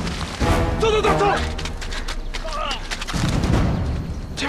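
Gunfire rings out during a film action scene, with sharp shots and booming blasts mixed with shouting voices and a dense soundtrack throughout.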